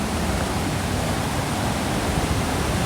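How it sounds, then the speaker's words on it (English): Waterfalls at Amnicon Falls State Park make a loud, steady broadband roar of rushing water that fills the scene without pause. "Hopefully you can hear me over the waterfalls behind me."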